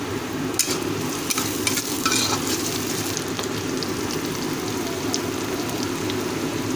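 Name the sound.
onion and spice masala being stirred while frying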